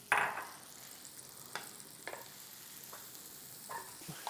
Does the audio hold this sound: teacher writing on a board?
no